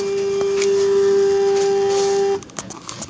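A stepper motor drives the inductor of a DIY remote-control antenna tuner through 1,000 steps, giving a loud steady whine that holds for about two seconds and then cuts off, leaving light clicks.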